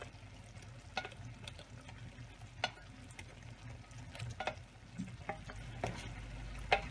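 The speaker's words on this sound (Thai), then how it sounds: "เทไปคลุกเขาใส่กัน" Cooked macaroni being stirred and tossed in a pan on the stove, with soft continuous scraping and mixing and a few sharper utensil clicks against the pan, close and steady throughout.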